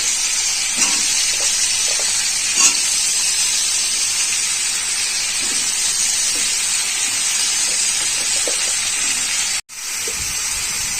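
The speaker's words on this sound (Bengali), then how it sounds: "এবার আমি কুমড়ো আলুগুলো সব সবজি একসাথে দিয়ে দেবো।" Pumpkin, potato and mixed vegetables sizzle in a hot pan, a steady loud hissing fry running throughout with a brief dropout near the end.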